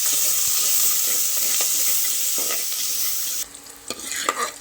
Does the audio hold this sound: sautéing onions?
yes